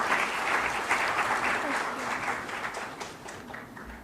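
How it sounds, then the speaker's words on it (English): Sustained audience applause fills a seminar hall, dense and steady clapping that gradually thins toward the end. "Let's hear a huge round of applause"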